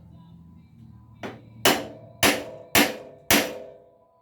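Five sharp metallic hammer taps on a castle nut of a front differential ring out one after another at a steady pace, close and loud, each leaving a short ringing tail.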